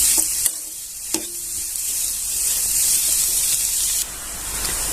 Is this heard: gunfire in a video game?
no